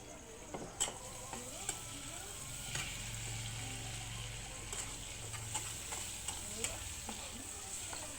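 Soft, steady sizzling in a wok as spices and ground coriander fry, with scattered light clinks and scrapes of stirring, quiet and close, no talking.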